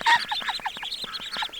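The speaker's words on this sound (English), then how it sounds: "The ducks are doing awesome." A group of ducks quacks in quick, overlapping bursts close by in a garden, loud and busy with no voices.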